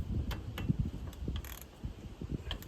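A ratchet snugging down the fill bolt during routine Honda maintenance, giving a run of close, crisp clicks in short uneven bursts over low mechanical handling noise.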